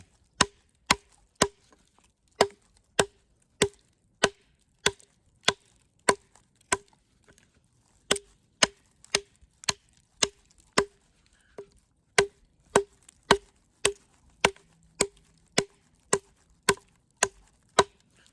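An ANV P500 tracker knife chops into a piece of cedar, producing about thirty sharp, crisp wooden thunks at a steady, fairly quick rhythm, close up with near silence between strikes.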